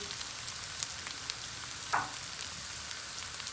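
Rice toasts in a pot already seasoned with black pepper, red pepper powder and salt for pilaf, giving a steady, close, low-level sizzle with a few soft stirring scrapes and no talk.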